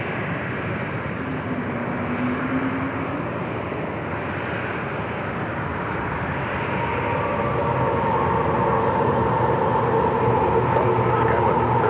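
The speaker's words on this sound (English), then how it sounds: "we also have a second Airbus A220-300 marching down for a takeoff" An Airbus A220-300 at San Diego airport rolls for takeoff, a steady loud engine roar building gradually over twelve seconds with no talk.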